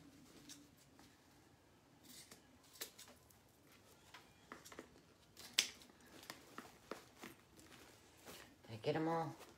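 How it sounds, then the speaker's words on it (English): Scissors snip through 4-inch ribbon at an angle while a Santa Claus wreath is being made, giving quiet, scattered crisp clicks and cuts close up, with a louder rustle at the end. "This ribbon, 4-inch ribbon, I always just cut at an angle."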